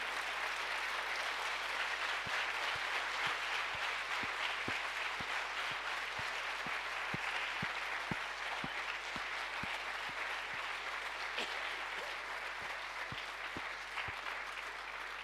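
A church congregation applauds in praise, dense sustained clapping from many people with a faint rhythmic beat running through it, holding steady before easing slightly toward the end.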